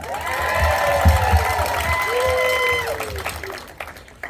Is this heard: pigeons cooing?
no